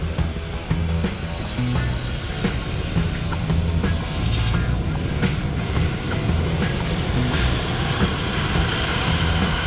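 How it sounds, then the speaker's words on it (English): A Lockheed Martin C-5M Super Galaxy military cargo aircraft at an airshow gives off a loud, continuous broadband engine roar that holds steady throughout, with no voices over it. "Here is a Lockheed Martin C-5M Super Galaxy, one of the largest military cargo aircraft in the world"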